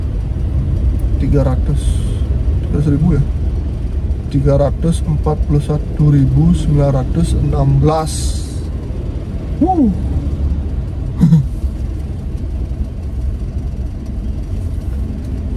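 An old Toyota Kijang's engine, heard from inside the cabin, makes a steady low rumble beneath continuous close-up talk.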